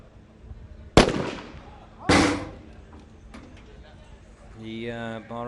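Two sharp, loud rifle shots about a second apart from a Bahraini sniper at a SWAT challenge competition in the UAE, each with a short echoing tail, followed by a faint voice.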